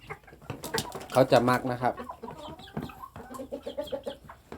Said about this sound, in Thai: อันนี้คือไก่สาวที่เราจะเตรียมนะครับ เป็นพ่อแม่พันธุ์นะครับ